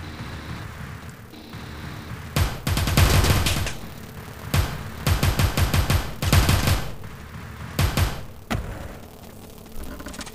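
Submachine gun fire from the pixelated top-down shooter Teleglitch comes in several loud rapid bursts of closely packed shots, separated by short quiet gaps.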